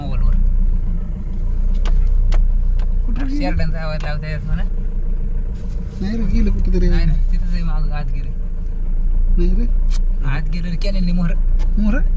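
A car engine runs with a steady low rumble through the whole stretch, heard near but beneath several people talking excitedly in a village setting.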